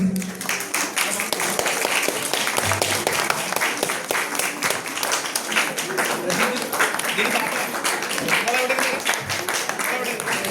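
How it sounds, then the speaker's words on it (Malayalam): An audience at a drama stage event applauds with dense, loud clapping that runs through the whole stretch, while a voice talks over it. "ഇവർക്ക് അതിമനോഹരമായ ഒരു കൈയടി നമുക്ക്"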